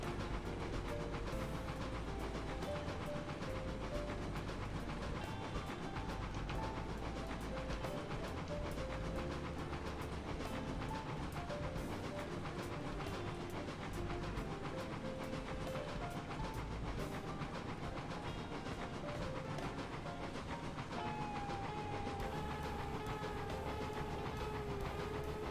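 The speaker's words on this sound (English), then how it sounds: "a nice long train like that snaking its way through the trees and the mountains" A long train rolling through trees and mountains in RailRoads Online, a continuous dense rumble with rhythmic clicking, heard steadily and fairly loud for the whole stretch under background game sound.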